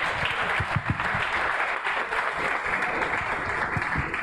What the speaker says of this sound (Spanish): Adelante, Soto. Aplausos.